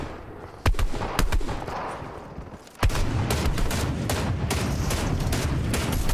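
Video game shootout gunfire: a few sharp single shots, then a dense, sustained burst of rapid automatic fire that fills the rest of the clip, loud and close.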